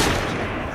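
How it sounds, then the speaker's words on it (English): A brief, dense burst of overlapping gunfire from a volley in the video game Assassin's Creed Syndicate, loud and continuous for under a second with no voices. "Draw your weapons and fire."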